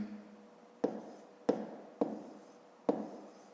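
A pen writes out a column multiplication on paper, four sharp separate taps and short scratches spaced unevenly apart, close and fairly quiet, each fading quickly, with no talking over them.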